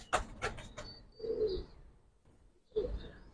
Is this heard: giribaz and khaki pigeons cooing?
yes